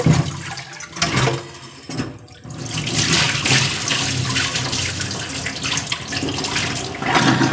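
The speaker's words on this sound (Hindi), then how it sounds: "फिलहाल के लिए धो लेते हैं यहाँ पर चावल को भी अच्छे से धो लेंगे" A kitchen tap runs strongly while rice is being washed, giving a steady rushing stream of water after a few short stop-start splashes at the beginning.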